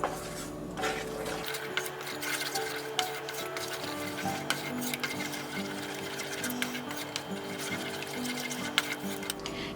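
Quiet scraping and stirring of paneer butter masala gravy in a pan over a steady low hum, with faint sizzling and occasional clinks of a utensil.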